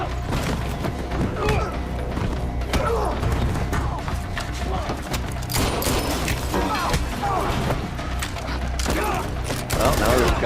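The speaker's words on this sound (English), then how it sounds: "Well, now there's gunfire." In the video game Quantum Break, gunfire erupts as repeated sharp bursts and impacts over a dense, rumbling game soundscape, loud and continuous with crashes mixed in.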